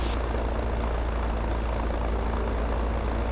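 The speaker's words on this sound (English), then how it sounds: "so we're going to run it up to 1600 RPM." Engine run-up to 1600 RPM on a Zenith CH 650 low-wing light sport aircraft, a loud, steady, droning roar filling the whole stretch at close range without letup.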